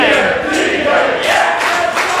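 A wrestling crowd at a live indoor show cheers loudly for the TMDK team, a dense sustained roar of voices with rising chant-like swells throughout.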